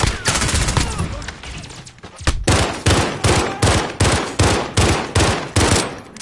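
Val rifle gunfire in Call of Duty Modern Warfare: a dense rapid volley, then a string of loud, evenly spaced shots with a sharp crack to each.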